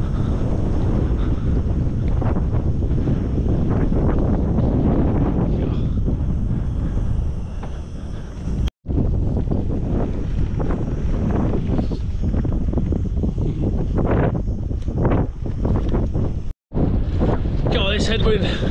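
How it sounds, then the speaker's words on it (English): Headwind roars and buffets across the microphone while cycling along a flat gravel road in Spain, a dense, loud, continuous rush with brief dropouts, and a rider's voice is faintly audible under it. "Headwind, I'm just pushing into it."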